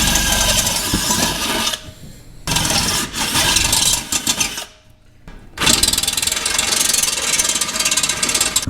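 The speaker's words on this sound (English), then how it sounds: "So I just have a step bit I'm gonna use." A step drill bit cuts a hole in a Dodge 46RE transmission pan, giving a loud, harsh grinding rasp in several bursts separated by short pauses.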